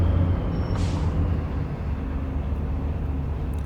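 Heavy truck in Truck and Logistics Simulator idling with a deep, steady engine rumble, broken early by a single sharp hiss of air brakes releasing, loud and close throughout.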